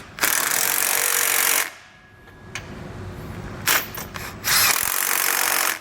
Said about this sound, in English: So now we're gonna tighten down our hardware.